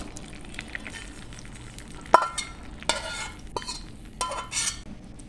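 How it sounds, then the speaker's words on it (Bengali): Hot tempering is poured into panta rice (soaked rice with yogurt) and stirred. A sharp sizzle and clatter are followed by scraping, clinking spoon strokes against the bowl, close and fairly loud with no talk. "বাগারটা পান্তাতে আমি এখন ঢেলে দিচ্ছি।"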